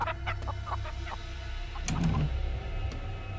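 Chickens raised for an experiment cluck in short, quiet bursts over a low steady background hum, sounding faint and somewhat distant.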